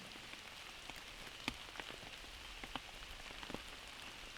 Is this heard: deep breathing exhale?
no